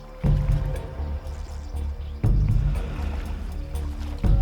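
Three young lion cubs wade through crocodile-infested water, the wet sloshing and splashing coming in three heavy bursts against a steady watery wash, with no voices.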